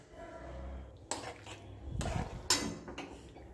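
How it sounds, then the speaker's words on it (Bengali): Tomato paste with lentils and boiled potatoes stirred in a wok, giving a few sharp scraping clatters of a metal spatula against the pan over a low simmering bubble, with no talk. "এর মধ্যে একটু পাঁচকলাই আর আলুটা সেদ্ধ করা দিয়ে দিলাম। এবার একটু এটাকে নাড়াচাড়া করব।"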